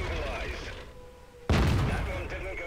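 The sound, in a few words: tank gun shot in video game, AT-15 tank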